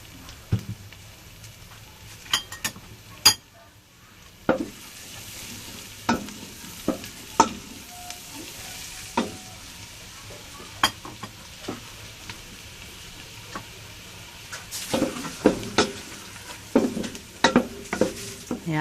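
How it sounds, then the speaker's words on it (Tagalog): Garlic frying in about two tablespoons of butter for mussel pasta, a soft steady sizzle broken by repeated clinks and scrapes of a utensil stirring in the pan, close by and without talking. "Ayan, luluto-lutuin natin ang ating bawang."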